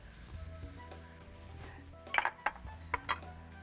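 Soaked toor and masoor dal tipped into a cooking pan, giving a few close metallic clinks and knocks of utensil against pan over a low background hum, with no voices.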